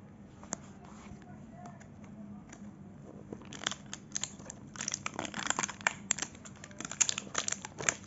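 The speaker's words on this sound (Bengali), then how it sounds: "প্যাকেটটা খুলি আমি।" A packet of American cookies is torn open by hand, with sharp crinkling and tearing of the wrapper that starts sparse and then grows into a dense, close rustle.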